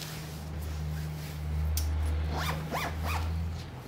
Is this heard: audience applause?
no